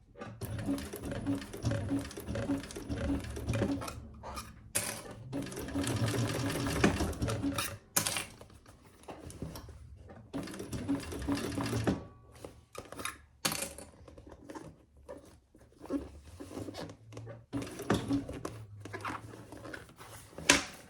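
A sewing machine topstitches seams on a fabric bag, its needle chattering in rapid runs of stitching broken by short pauses and soft handling clicks.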